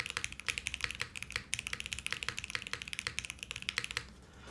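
Rapid typing on a plateless, PCB-mounted leaf-spring 60% mechanical keyboard, a close, quiet stream of crisp clacky keystrokes in an uneven rhythm that stops near the end.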